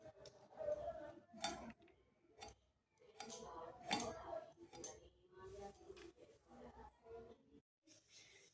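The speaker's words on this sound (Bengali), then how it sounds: "বিনস কাটছি ভাজবো বলে" A knife chopping beans on a board: irregular, sharp close-up taps and cuts with brief pauses between bursts.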